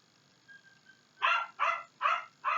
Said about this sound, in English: There's my dogs barking.